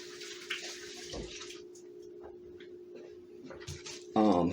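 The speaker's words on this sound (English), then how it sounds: "Rinse my hands." Running tap water pours steadily in a home kitchen while hands are rinsed, with a low constant hum underneath and a brief louder splash near the end.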